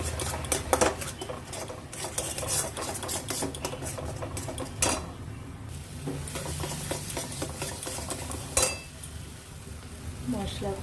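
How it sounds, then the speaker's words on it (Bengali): Masala spices for soya masala being stirred and fried in a pan, with repeated utensil scrapes and clinks against the metal over a soft sizzle, close and moderately loud, plus occasional sharper knocks. "মশলাটা ভালো করে কষে জল দেব।"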